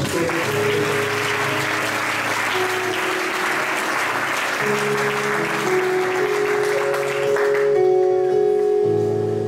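A church congregation at a French-speaking evangelical service claps in steady, dense applause throughout, with sustained tones from a keyboard or organ playing underneath.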